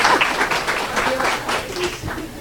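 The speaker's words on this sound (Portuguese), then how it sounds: "as palmas, por favor." Audience applause at a startup event in Brazil, a brief spatter of clapping with some voices mixed in, fairly close and steady over a couple of seconds.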